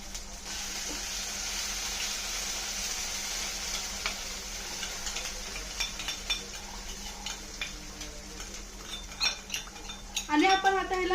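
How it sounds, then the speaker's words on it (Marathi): A spoon scrapes and clinks in a pan of onion-garlic puree masala frying in oil for misal, quiet sizzling underneath with irregular metallic taps growing louder toward the end. "आणि आपण आता ह्याला मसाला चांगला फिरवत राहू."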